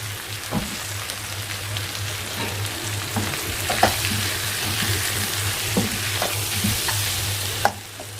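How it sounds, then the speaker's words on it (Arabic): Meat sautéed in a pot with garlic and spices such as black pepper, cumin and paprika, giving a steady close sizzle and frying crackle with occasional stirring clicks, no voices. "هنشوح التوابل مع اللحمه مع الثوم"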